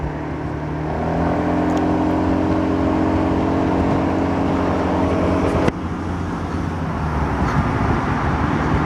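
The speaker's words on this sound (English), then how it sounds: "The bike is SYM Cruisym 250i." A SYM Cruisym 250i motorcycle rides along with a steady, loud engine drone and wind rush, the engine tone holding constant with a brief knock near the end and no talking.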